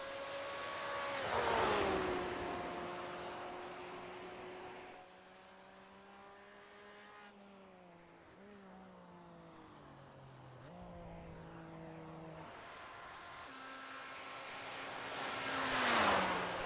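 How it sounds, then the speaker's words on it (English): A red Corvette GTE race car in a racing game at Texas Motor Speedway revs loudly and shifts through gears, its engine tone rising, dropping and climbing again, swelling near and fading. "Corey Mitchell in his little red Corvette comes across the line to start his first hot lap out there."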